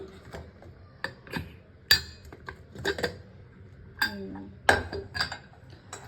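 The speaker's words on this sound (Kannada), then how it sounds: "ಇವಾಗ ಕುಕ್ಕರ್ ಓಪನ್ ಮಾಡೋಣ, ಹೇಗಾಗಿದೆ ನೋಡೋಣ." Metal clanks and clinks of a pressure cooker lid being opened after the pressure is released, several sharp knocks spaced irregularly, close by, with faint background murmur.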